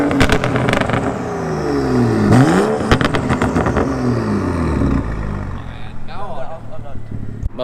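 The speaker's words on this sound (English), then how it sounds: "we're gonna get a little exhaust note from the N55" A BMW M235 with an N55 engine revs repeatedly with a raspy exhaust, rising and falling in pitch, loud and close, with people talking over it.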